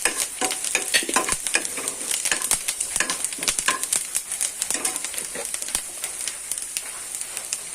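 Onions and curry leaves sizzle and fry in hot oil while being stirred, with continuous crackling and frequent scraping strokes of the spoon against the pan, close and loud.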